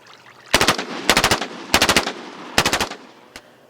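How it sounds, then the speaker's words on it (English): An HK G36 rifle, mostly plastic, fires just after being pulled out of cold water at 52 degrees. Four loud, close bursts of rapid automatic fire are spaced about a second apart, and a single shot follows. "Underwater with the gun and pulling out and shooting."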